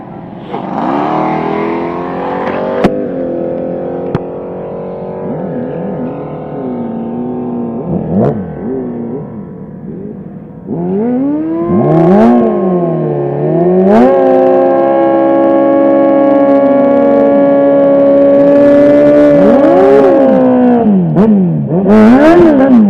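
Quarter-mile drag motorcycle engine revving hard with cold tires, sustained loud harmonic drone rising and falling through several throttle blips, a steady high idle, then climbing revs near the end, close and alone without talk.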